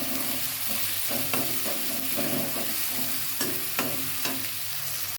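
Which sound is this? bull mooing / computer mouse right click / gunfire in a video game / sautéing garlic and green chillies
sautéing garlic and green chillies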